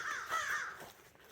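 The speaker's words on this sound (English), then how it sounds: "And there goes the crows." Crows caw a few times among trees on a mountain trail, a couple of short harsh calls at middle distance.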